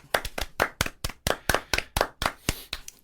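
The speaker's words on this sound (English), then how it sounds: "Everybody clap for Tinkerbell." Clapping for Tinkerbell at a Halloween presentation: about a dozen separate, evenly spaced claps in a steady rhythm, fairly faint and sounding like just a few hands rather than a large crowd.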